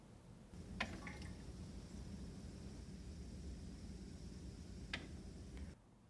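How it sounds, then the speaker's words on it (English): A thin, steady trickle of water runs from a reverse osmosis faucet during a home RO system installation, a soft continuous hiss with a couple of brief louder splashes, no voices. "If your system contains a permeate pump, the thin steady trickle will oscillate with the pump."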